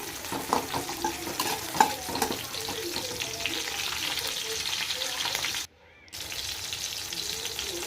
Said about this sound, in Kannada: ನಾವೇನೇ ಒಂದು ಸಾಂಬಾರು ಮಾಡ್ತಿದ್ದೀವಿ ಅಂದರೂ ಕೂಡ ಫಸ್ಟು ಎಲ್ಲ ಫ್ರೈ ಮಾಡಿ ಹಾಕ್ಕೊಳ್ಳಿ